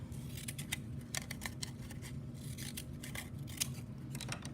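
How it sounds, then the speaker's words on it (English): Scissors with decorative edged blades snip through paper in quick, repeated cuts with a crisp rhythmic crunch. The cutting is close and moderately quiet, and nobody speaks. "I could even use a different pair of scissors, one of these scissors that has the interesting edges, and I could cut a piece of paper with those."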